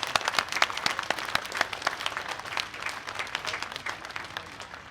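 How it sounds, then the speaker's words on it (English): An audience at the Tankfest arena show claps in sustained applause that stays loud and dense throughout, then tapers slightly toward the end. "let's just give them a round of applause as well for what they go through on our behalf"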